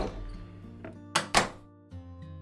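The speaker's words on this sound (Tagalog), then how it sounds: "Kumatok at pumasok." Two sharp knocks on an office door, close together and crisp, rising above soft background music.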